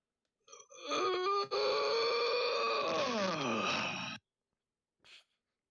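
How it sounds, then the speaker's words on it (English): One long, loud drawn-out yawn, rising and then sliding down in pitch before cutting off, followed by a short faint breath. "Can you yawn any louder?"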